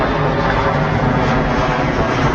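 Aircraft engine roar at Heathrow Airport, a steady, loud, broadband rumble from a jet on or near the runway, continuous throughout with no talk.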